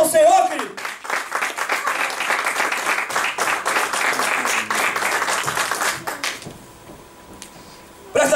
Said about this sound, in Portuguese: Dá uma salva de palmas ao Senhor, querido.